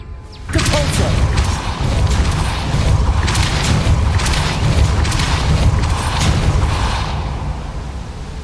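Depulso spell impact in Hogwarts Legacy: a loud, sustained booming blast with crashing, rumbling debris that rolls on for several seconds, starting abruptly and fading slightly at the end.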